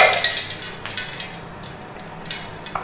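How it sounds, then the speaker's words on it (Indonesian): Tongkol tuna pieces fry in a pan with a steady soft sizzle, broken by occasional clicks and scrapes of a utensil stirring. "Goreng ikannya dulu"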